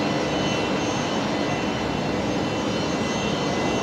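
Loud, steady roar of Fokker aircraft engines droning continuously at close range at night at Brisbane Airport, with no voices.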